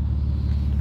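A Nissan Skyline R33 GTS four-door sedan's engine idles steadily nearby, a deep, even low rumble with no voices over it.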